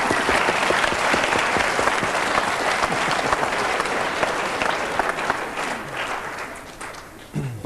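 An audience at a 1988 Icelandic comic verse show bursts into sustained, dense applause, loud and close, tapering slightly near the end with a faint voice.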